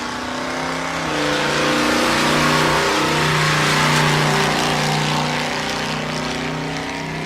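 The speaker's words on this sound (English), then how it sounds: "And it sounds like they've gotten Alan Murray's car fixed up." A loud drag racing car engine revs and drones steadily with rising and falling pitch at a raceway, a throaty roar that swells in the middle before easing slightly near the end.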